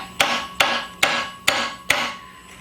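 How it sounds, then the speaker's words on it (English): Five evenly spaced hammer taps knock a Chevy car part back into place, each a sharp close metallic strike with a brief ringing decay. "Let me try to hit it back in place with a hammer real quick."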